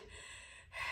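Heavy, gasping breaths from someone winded after a hard home HIIT interval, loud and close with no talk, a sharper intake rising near the end of the short burst.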